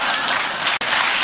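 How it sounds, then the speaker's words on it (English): A studio audience for a comedy panel show gives dense, loud, continuous applause, briefly cut off for an instant midway before resuming at full strength. "Big round of applause for those guys."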